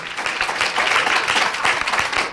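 A studio audience claps and applauds in a dense, steady burst that continues for the whole stretch, loud and close, on a Spanish radio programme presentation.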